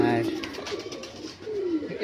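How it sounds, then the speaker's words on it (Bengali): Pigeons coo softly and close by, a low rolling call that repeats across a few seconds, with faint chatter and outdoor background noise in a garden. "প্রচুর পায়রা রয়েছে এখানে দেখুন"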